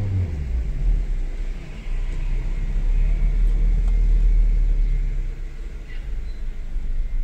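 Car driving slowly through heavy city traffic during a driving lesson in the learner's own car, with a steady low engine and road rumble that rises and falls gently throughout, no talk.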